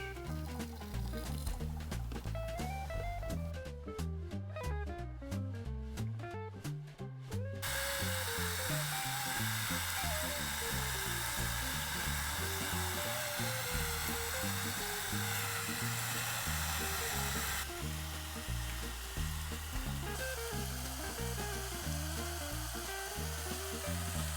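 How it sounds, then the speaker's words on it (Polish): A Thermomix blending strawberries with yogurt gives a steady, dense whirring roar that runs continuously for most of the stretch, with tonal background music playing over it. "Podgrzeję ją delikatnie w termomiksie razem z truskawkami. Dorzucam jogurt. Całość miksuję i nie podgrzewam już."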